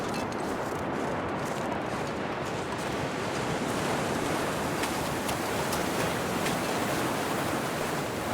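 Steady, broadband rush of river water in The Long Dark, a constant close wash of noise without breaks, heard alone.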